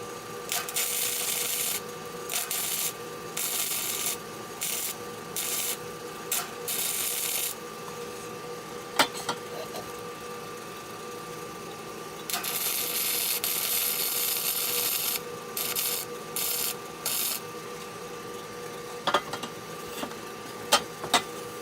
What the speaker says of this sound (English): Okay, now we got that all welded up